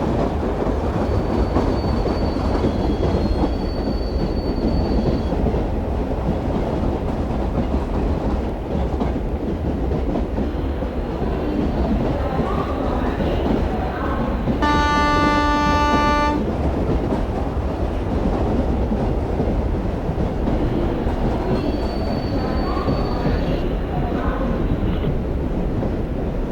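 Simulated Indian local train from a railway game running at speed, with steady rumbling wheels and rail clatter throughout and a sustained horn blast partway through, heard alone without talk.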